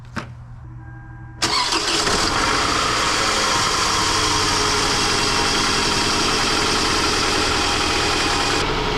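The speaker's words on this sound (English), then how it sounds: "let's hear a misfire" A car engine with a misfire cranks and catches, then runs loud and steady close by, its rough idle continuing without a break after the start.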